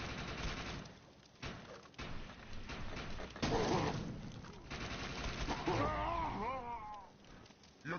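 Gunfire in a futuristic shooter video game comes in bursts of dense automatic shots over busy game sound, mixed with shouted character voice lines and a brief warbling electronic effect near the end.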